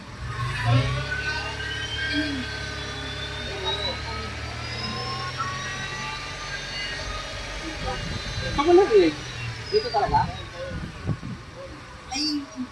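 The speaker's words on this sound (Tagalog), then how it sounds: "Narinig niyo mga boss, ano? Meron siyang ugong." A low, steady drone hums inside a moving Mitsubishi Mirage G4 with a reported humming fault, with engine and road noise underneath and people talking over it.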